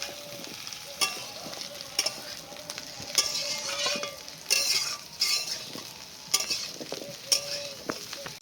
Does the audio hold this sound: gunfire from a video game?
no